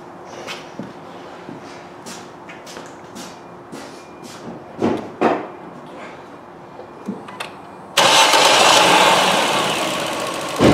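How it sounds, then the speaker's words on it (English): After a few quiet clicks and shuffling sounds, a 2017 Ford C-Max 1.6 petrol engine with a P0352 ignition coil fault cranks and catches, then runs loudly and steadily, close by. "now I'm going to start the engine"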